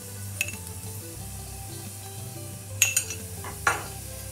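Caramelized onions and curry powder frying in a pan, a low steady sizzle with a few sharp metallic clinks of a spoon against the pan scattered through; nobody speaks.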